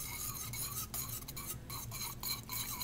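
Chili sauce is whisked in a bowl for spring rolls, giving quick close scraping and light clinking strokes in an uneven rhythm, fairly quiet, with no talking.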